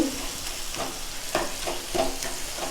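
Tomatoes sautéing in oil in a pan, a steady sizzle broken by several rhythmic scraping stirs of a spoon, close and moderately loud with no voices.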